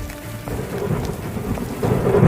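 Heavy rain pours down steadily with low rumbles of thunder mixed in, a dense close wash of sound lasting a couple of seconds, with no voices.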